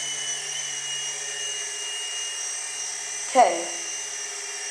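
An indoor RC helicopter hovers and slowly yaws right, giving a steady high-pitched rotor whine throughout with a brief louder burst near the end as a voice speaks.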